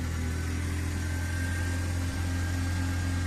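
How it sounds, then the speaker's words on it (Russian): A Komatsu FG15 petrol forklift engine runs at a steady idle, a close, even low hum with a constant drone and no voices over it. "Можете послушать, как работает двигатель, довольно-таки неплохо."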